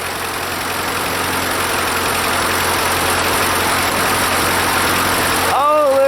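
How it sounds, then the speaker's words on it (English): A Ford 8N tractor idles with valve clatter, a steady, loud, close engine drone with fast ticking throughout, no pauses, and a brief squeaky sound at the very end. "There's some serious valve clatter."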